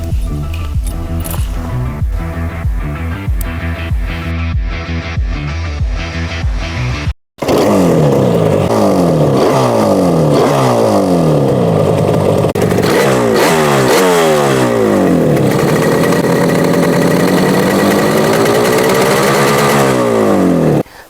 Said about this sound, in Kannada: ಈ ಬೈಕ್ನ ಸ್ಟಾರ್ಟ್ ಮಾಡೋಣ